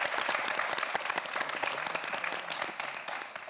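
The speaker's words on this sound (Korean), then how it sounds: "다시 한번 박동범 학생에게 축하의 박수 보내주시기 바랍니다" An audience claps on a televised quiz show to congratulate the winning student, giving a steady, fairly faint patter of many hands that stays even from start to finish.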